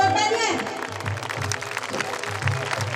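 An audience at a devotional Khatu Shyam Baba kirtan gathering bursts into applause, a crowd of hand claps rolling under someone speaking over a microphone.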